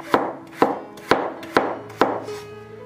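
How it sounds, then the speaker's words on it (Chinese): A knife slices a radish diagonally on a cutting board in five steady, evenly spaced strokes, each a sharp close thud, with no talking. "反过来打斜刀切成片。"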